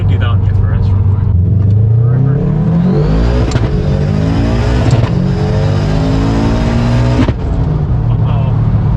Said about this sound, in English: Gotta love the wastegate noise.